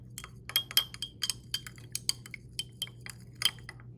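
Glass stirring rod clinking repeatedly against glassware while cobalt hexahydrate is stirred into ethanol, irregular bright taps close up over a faint background hum.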